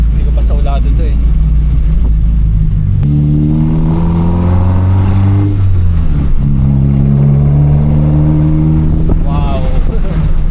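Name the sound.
2000 Toyota Levin with 4AGE engine driving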